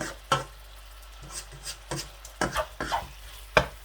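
Chicken jalfrezi cooking in a pan over medium heat, with a quiet background and a handful of distinct scraping stirs and spoon knocks spaced irregularly across a few seconds.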